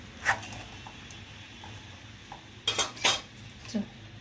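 Set pieces of Mysore pak are lifted out of a metal tray, with soft scrapes and a few sharp metallic clinks of a utensil against the tray, close and fairly quiet.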